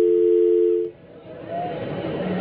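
A steady telephone dial tone sounds after a caller's phone line drops during a live phone-in broadcast, clear and loud for about a second before giving way to faint background murmur.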